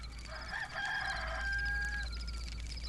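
A rooster crows once, a single drawn-out, wavering call heard clearly at moderate distance over a steady low background hum, with no one speaking.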